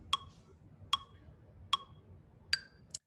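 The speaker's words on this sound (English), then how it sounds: "I'm going to turn on the click. Let's change the tempo to 75." Ableton metronome click at 75 BPM in 4/4, four sharp, evenly spaced ticks with the accented first beat sounding higher, quiet and isolated against faint background noise.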